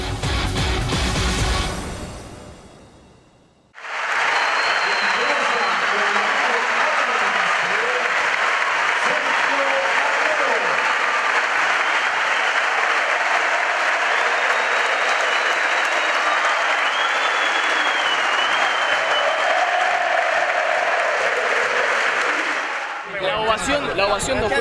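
Stadium crowd at an Argentina national team event in Córdoba bursts into a long, loud ovation of sustained applause and cheering for about twenty seconds, with a voice briefly before and after.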